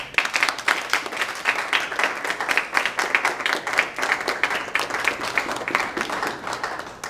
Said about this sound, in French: je vous demande de faire de tonnerre d'acclamation pour notre chère Marie-Thérèse.